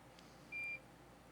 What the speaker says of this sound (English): don't you beep at me before I ask you to beep at me